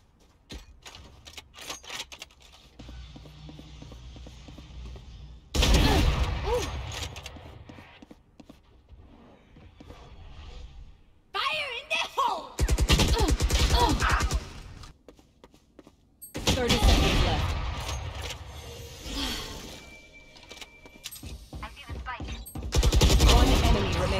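Bursts of video-game gunfire, with loud volleys of rapid shots separated by quieter stretches holding faint background game sounds.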